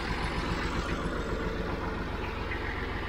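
A Massey Ferguson Model 50 tractor engine runs steadily at idle on a farm, a close, loud, continuous low diesel chugging with an even rhythmic pulse and no talk over it.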